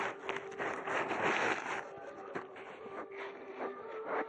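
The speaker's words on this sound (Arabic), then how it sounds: "الشاحن ده اللي مشغل عليه المكنسة" A homemade vacuum cleaner powered by a 12 volt charger runs with a steady, close motor whir and airy hiss, fluctuating slightly throughout, with no speech.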